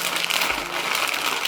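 Plastic bag packaging around guitar straps crinkles close up, a brief burst of dense, crackling rustle with no speech.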